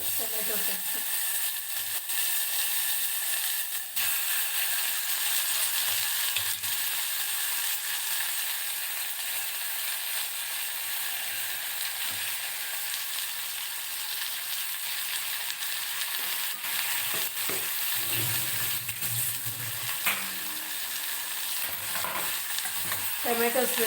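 Tomatoes fry in a pan for Udupi-style rasam, giving a steady, close sizzle with occasional stirring scrapes throughout.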